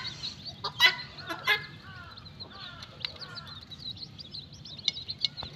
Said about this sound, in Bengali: আমার মুরগি বাচ্চাগুলো খুবই সুন্দর করে খাচ্ছে মায়ের সাথে